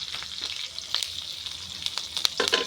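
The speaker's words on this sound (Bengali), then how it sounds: "এটা এখন ভাজে নিব।" Crushed garlic, chopped onion and green chili frying in a pan for a Bengali vegetable dish, a steady close sizzle with crackling bursts and light stirring scrapes, no talk.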